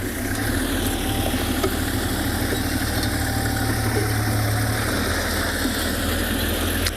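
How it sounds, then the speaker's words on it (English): Safari vehicle engine idling close by on a morning game drive in South Africa, a steady, loud low rumble running unbroken throughout with no speech. "As you can hear, there's another vehicle in this sighting"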